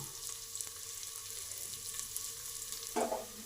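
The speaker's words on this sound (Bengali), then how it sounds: "রসুনটা ভাজা হয়ে এসেছে, এবার পেঁয়াজটা দিয়ে দেবো" Garlic and onion frying in a pan make a faint, steady crackling sizzle, with a brief louder burst of sizzling near the end.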